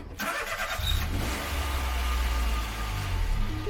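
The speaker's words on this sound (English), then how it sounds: "Let's start the car up." A Peugeot 107 with a freshly swapped battery cranks briefly and catches, its small engine settling into a steady, close, low idle that runs on evenly without any voices.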